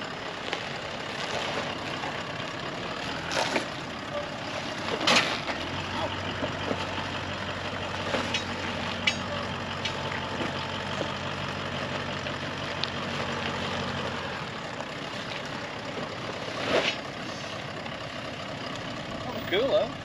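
A 4WD engine idling and grumbling as the vehicle bumps and scrapes down the rocky Castle Rock track, with occasional knocks and clunks from the rocks and people talking over it.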